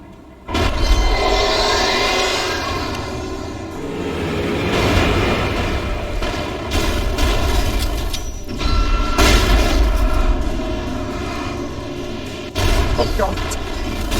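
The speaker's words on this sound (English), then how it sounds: "Let's try using a flashbang." A flashbang goes off in the Alan Wake video game, a loud sustained booming roar that swells and surges in waves, with voices talking beneath the din.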